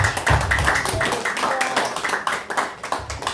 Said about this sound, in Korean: 우리 열강해 주신 정 대표에게 힘찬 박수 한번 치주십시오